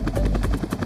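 A helicopter's rotor chops in a steady, loud, rapid rhythm of repeated thumps, heard close and alone with no talking.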